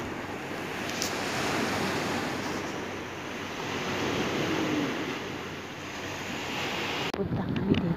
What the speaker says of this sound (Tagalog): Punta kami dito sa dagat.